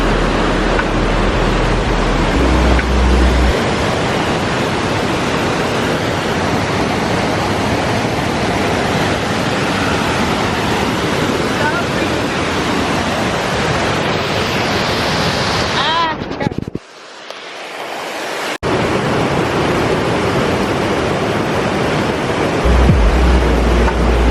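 Steady, loud roar of rushing water at Burgess Falls waterfall, continuous broadband wash with a brief dropout near the end before the roar resumes.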